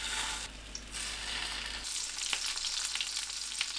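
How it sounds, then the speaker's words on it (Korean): Egg-coated shrimp skewers pan-fry in hot oil on low heat, giving a steady close sizzle with small crackles and pops throughout. No one talks. "팬에 올리고 노릇하게 부쳐냅니다"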